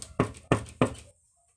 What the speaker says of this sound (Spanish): cuando oyó que golpeaban a su puerta